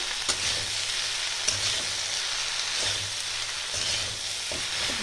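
Cabbage fries in a pan for Bengali bandhakopir chorchori while being stirred, giving a steady close sizzle with scraping spatula strokes at irregular intervals throughout.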